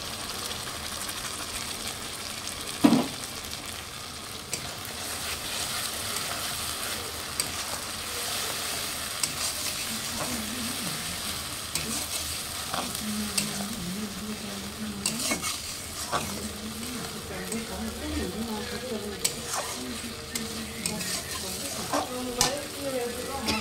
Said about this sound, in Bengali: দেখো মশলাটা সুন্দর করে ভাজা করে নিয়েছি